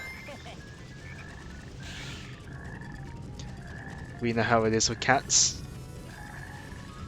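Frog croaking in the Sonic Heroes video game, a short burst of rapid ribbits midway through, heard over a steady game music bed while someone talks.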